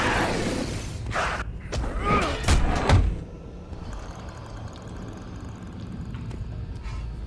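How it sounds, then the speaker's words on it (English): In a Jersey Devil video game, a burst of heavy impacts, crashes and shattering hits lands in a rough cluster, then the action gives way to a quieter mechanical hum. "Just love slamming things into the Jersey Devil."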